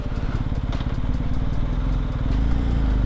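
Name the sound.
BMW R1250GS HP motorcycle engine with Akrapovic muffler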